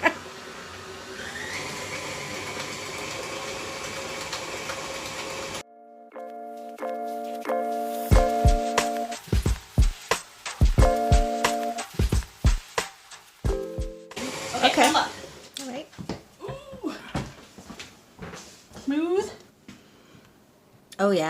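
Electric mixer with a beater whirring steadily through no-bake cheesecake filling for the first few seconds, then stopping, followed by clinks and knocks of scraping down the bowl and beater with voices in the background.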